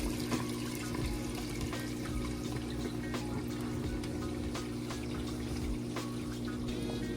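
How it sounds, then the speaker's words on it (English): A Maytag HE washer drains water out through its drain hose, giving a steady rushing, gurgling flow with a low machine hum underneath, constant for the whole stretch and with no talk. "Draining that water out nice and fast."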